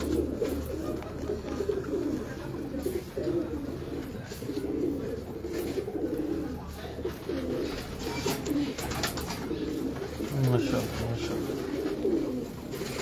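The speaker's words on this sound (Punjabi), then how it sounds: "ਕਬੂਤਰ" Pigeons coo in repeated low, throaty bursts close by, mingled with someone talking and handling the birds.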